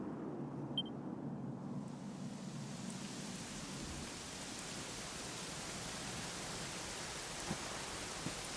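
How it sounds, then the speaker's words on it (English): Steady rain falls in the Dundrasil ruins of Dragon Quest XI, an even hiss of downpour with a low rumbling undertone that holds constant for several seconds, no voices present. "it was raining like this the last time I ever saw her"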